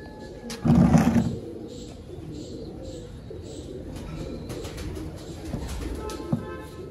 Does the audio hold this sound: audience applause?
no